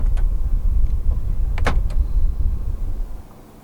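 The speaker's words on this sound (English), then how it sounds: "To fold the side mirrors in from the inside, press this button right here." Power-folding side mirrors on a 2023 Hyundai Creta 1.5 Plus folding in: a short motor whir with a clicky burst near the middle, over a steady low cabin hum and no voices.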